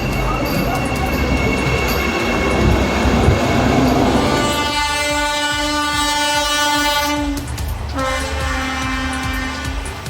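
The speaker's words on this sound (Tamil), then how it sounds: "சென்னை காட்பாடி இடையிலான முதல் வந்தே மெட்ரோ ரயிலின் சோதனை ஓட்டம் வாலாஜா வரை மட்டுமே நடைபெற்றது." A Vande Metro train on its trial run between Chennai and Katpadi, as far as Walajah, sounds a loud, sustained multi-tone horn over rumbling wheels, the horn dipping briefly before resuming.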